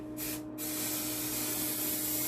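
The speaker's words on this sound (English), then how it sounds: "So I'll run a line, I'll spray a line" Aerosol spray hissing steadily as a line is sprayed down the center crease of a wooden shield's edging, a continuous close broadband spray lasting the whole stretch with a brief dip near the start.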